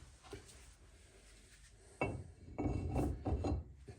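A brake disc on a Hyundai i10 scrapes and knocks as it slides onto the wheel hub, a few close metallic rubs and thuds following a quieter stretch, with no talk.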